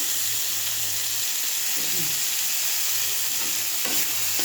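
Green chillies frying in a pan, with a steady close sizzle and hiss and a few brief stirring scrapes.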